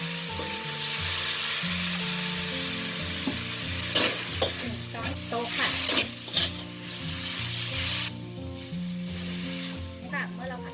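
Vegetables are stir-fried with light soy sauce in a hot pan, giving a loud, steady sizzle throughout with repeated scraping and clattering of the spatula stirring close by, and no talking.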